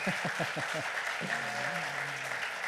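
Cinema audience at a comedy show in a La Rochelle multiplex applauding, continuous dense clapping with a voice speaking over it in the opening seconds and a sustained vocal tone later.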